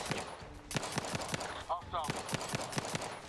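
Rapid gunfire in The Outer Worlds 2, a quick string of sharp close shots in an uneven automatic rhythm, with a voice speaking faintly beneath.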